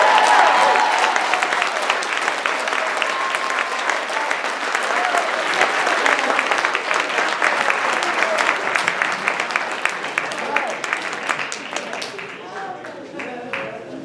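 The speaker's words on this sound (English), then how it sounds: "So if you're with me, can I get some applause?" Sustained audience applause fills the room at a public school funding forum, a dense, even wash of clapping lasting over ten seconds with scattered voices mixed in before it thins out.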